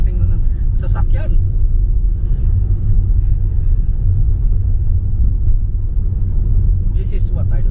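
A car with a manual transmission drives along a countryside road in the UK at night, giving a steady low engine and road rumble with brief faint clicks and noises near the start and end.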